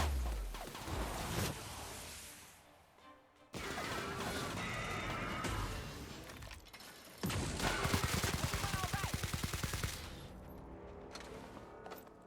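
Gunfire crackles through a firefight in the video game The Outer Worlds, with dense, noisy bursts and a stretch of rapid repeated shots, loud and close with no talking.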